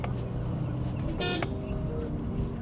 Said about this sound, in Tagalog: Lakas naman ng busina ko.